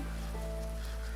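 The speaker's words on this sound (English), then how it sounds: "It is still raining." Steady rain falls in the farming game Grimshire, a constant soft hiss of drops under a low hum, short and unbroken.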